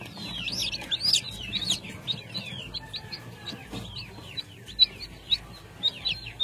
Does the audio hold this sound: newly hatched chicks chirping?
yes